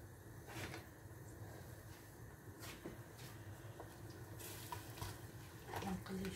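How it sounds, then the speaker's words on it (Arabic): Beef fat frying in a home kitchen pan for a dowara (tripe) dish, giving a steady low sizzle throughout with occasional clinks and stirring knocks, no talk. "نقلي شويه الشحم"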